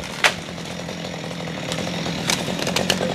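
A chainsaw cuts through a tree, its engine droning steadily and fairly loud with brief sharper bursts as the chain bites.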